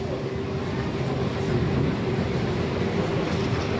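A Taiwanese MRT metro train rolls along with a steady, loud rumble and a faint tonal whine, unbroken throughout.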